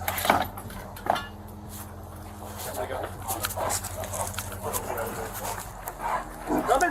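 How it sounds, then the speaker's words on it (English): Police dog barking during an arrest standoff, several sharp barks spread through the stretch while officers shout warnings over it. "You will get bit by the dog."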